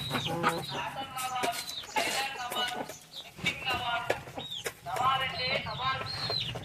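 Medak breed chickens on a farm in Telangana, clucking and calling repeatedly at close range, with some voices speaking alongside.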